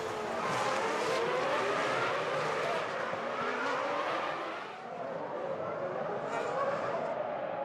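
Formula 1 cars race around the Monaco Grand Prix circuit in 2001, including a Benetton, producing loud, continuous high-revving engine screams with pitch sweeps as the cars pass close by.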